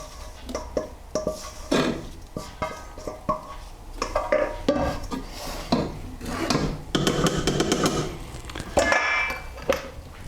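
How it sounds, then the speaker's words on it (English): Spatula scraping vanilla custard (crème pâtissière) mixture out of a pan, heard as repeated close rubbing and scraping strokes against the pan with intermittent clinks, fairly loud and irregular, with no talking. "I'm going to use a spatula to make sure that I get absolutely all of that mixture out"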